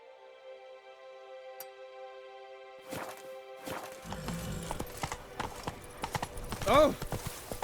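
Roach, the horse in The Witcher 3 Blood and Wine, trots in with clip-clop hoofbeats that start after a quiet stretch and grow busier toward the end, mixed with music and a brief voice.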